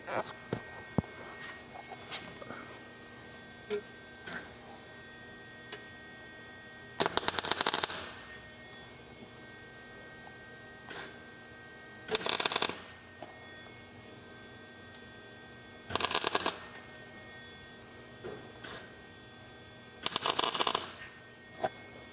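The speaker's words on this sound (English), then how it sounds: "I went ahead and welded in this little section where I messed up on my cut." A welder lays short bursts of crackling buzz onto a replacement rust-repair piece on a Jeep XJ, four to five separate loud bursts spaced a few seconds apart with quieter shop noise and faint clicks between.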